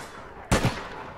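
A single sharp gunshot in the video game APB Reloaded cracks out, loud and close, followed by a brief echoing tail.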